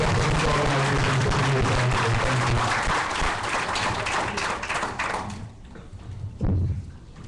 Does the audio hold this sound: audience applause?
yes